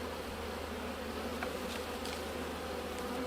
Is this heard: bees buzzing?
yes